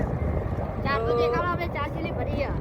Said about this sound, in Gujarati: તો તમે જોઈ શકો છો આપણું આ ટ્રેક્ટર છે.